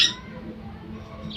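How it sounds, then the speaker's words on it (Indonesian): A short harsh squawk from a cockatiel or mini cockatoo kept in a colony parrot-breeding setup opens the clip, then fades to quiet background noise with a faint voice underneath. "ini burung falak atau cocktail atau kakak tua mini ya"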